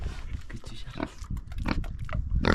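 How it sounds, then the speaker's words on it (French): Grunting and snorting from a large pig close by on a hiking trail in the Peruvian mountains, steady and fairly loud over several seconds, with excited voices talking over it. "il y a un gros cochon là"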